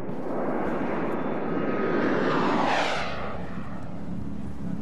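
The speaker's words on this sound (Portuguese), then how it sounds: "Os jatos negros do 37º Comando Tático foram rapidamente deslocados" Black stealth jets of the 37th Tactical Command fly past, a loud, steady jet roar that swells to a peak near the middle and then sweeps away as the aircraft passes, with no voices.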